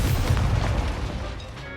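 A deep, booming burst from a fire spell cast in Hogwarts Legacy, loud at the start and decaying into a rumbling tail.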